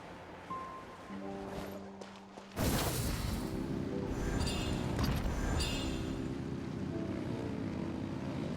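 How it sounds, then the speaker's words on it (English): Engines revving in the video game Genshin Impact: after soft tonal game sounds, a loud, sustained droning engine roar bursts in and continues steadily to the end. "Rev the engines!"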